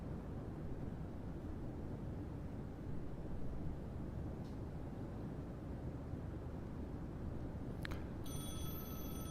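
A phone rings briefly near the end, its electronic trill cutting through a steady, loud broadband hum that fills the whole stretch, with no talking.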